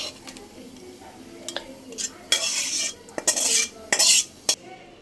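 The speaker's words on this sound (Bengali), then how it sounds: "এখন আমি বাটিতে ঢেলে নেবো" Rohu fish curry in a spicy oil gravy is tipped from the pan into a bowl, with metal spoon scrapes, clinks and short wet sloshing bursts, close and fairly loud.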